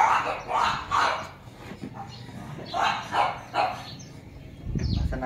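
A dog barks several times in short bursts, fairly close, with a few quieter gaps and a low rumble of handling at the end.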